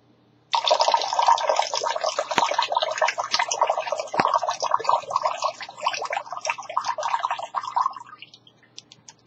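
Water pouring out and splashing as it spills, a steady broad rush that starts abruptly and runs continuously for several seconds before stopping, loud and close with no talking.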